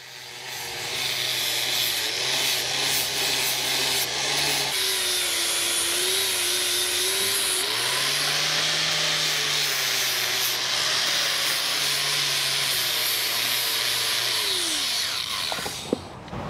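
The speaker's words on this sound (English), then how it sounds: "We have taken some measurements so we know right where to grind to take any paint or powder coat that it may have that may interfere with the weld." An angle grinder strips paint and powder coat from a steel trailer jack ahead of welding. A loud, continuous abrasive whine and hiss rises and falls slightly in pitch as the disc is pressed to the metal, ending with a brief clatter.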